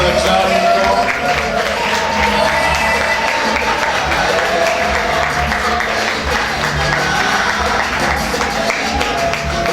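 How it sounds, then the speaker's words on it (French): Guests at a birthday celebration for Papa Maurice Mvuavua applaud steadily, a loud, thick wash of clapping with some cheering mixed in that carries without a break throughout. "On acclame."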